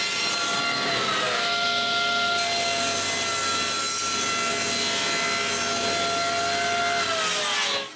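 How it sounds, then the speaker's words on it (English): A table saw rips through a glued-up wooden plug, giving a loud, steady cutting whine with a high blade tone that holds for most of the cut and then tapers off at the end. "I cut most of the plug on the table saw"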